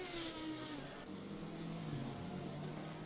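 Sim racing cars at Mount Panorama drone faintly and continuously, engine tones rising and falling under low background noise, with no clear talk over them.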